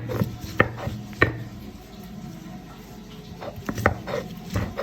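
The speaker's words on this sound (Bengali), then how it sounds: "এখন এটাকে ভালোভাবে ছেঁচে নিচ্ছে পাটাতে।" Green chili and raw tamarind are pounded on a flat grinding stone, giving sharp, close thuds at an irregular pace with soft grinding rubs between them.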